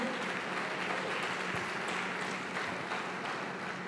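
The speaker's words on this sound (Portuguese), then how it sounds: "Dê uma salva de palmas ao Senhor, glorifica Ele." A church congregation claps during a worship service, a dense, sustained wash of applause from many hands filling the room evenly throughout, with no spoken voice standing out.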